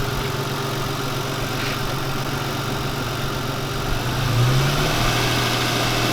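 A Subaru WRX, left sitting for ten months with dying batteries, idles as a steady engine hum with a low drone and rises slightly near the end, with no talk.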